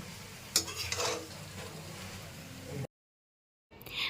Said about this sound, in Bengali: এখন আবারও ভালো করে ঢাকনাটা খুলে নিয়ে নাড়াচাড়া করে নিচ্ছি